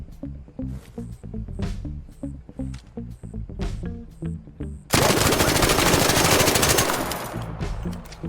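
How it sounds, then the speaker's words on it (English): The Stitcher gun in the Arc Raiders video game, fitted with a muzzle brake, fires a series of short, punchy bursts with brief gaps, then breaks into a dense, sustained rattling stream of rapid shots that tails off near the end. "that was much smoother. That may be the way to go with the stitcher."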